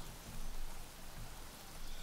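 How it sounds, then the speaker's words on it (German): Steady rain pattering in the video game Craft the World, a soft continuous hiss of drops heard alone at a low level for about two seconds. "Und es regnet nur auf den Ork."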